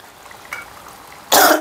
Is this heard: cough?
yes